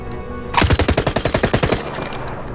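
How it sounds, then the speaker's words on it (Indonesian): Rapid automatic bursts from a Kalashnikov rifle at a firing range, about a dozen sharp evenly spaced shots in one sustained string, loud and close, with no talking. "Andrei Ivanovich yang telah mencoba menggunakan senjata Kalashnikov langsung tercengang dengan kualitas tembakan yang dimuntahkan dari senjatanya tersebut"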